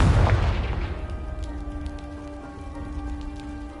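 Blast of the Confringo spell in Hogwarts Legacy hitting a pile of debris: a loud, close explosion at the start that quickly decays into a crackling, rain-like patter of falling rubble, with no talk.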